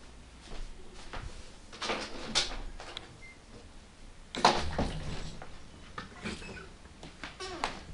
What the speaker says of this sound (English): Let me open up the front door and see if he can go out.